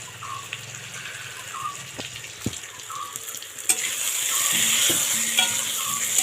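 Potatoes frying in oil in a pan, a soft sizzle with a few clinks and scrapes of a utensil, the hiss swelling louder toward the end, no talking.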